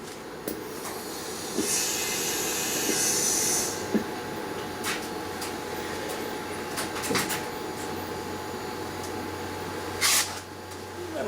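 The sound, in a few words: refrigerant boiling in car fridge evaporator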